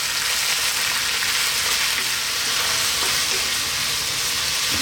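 Bok choy stir-frying on high heat in a pan, a loud, steady, hissing sizzle that runs unbroken throughout, close up and with no talking.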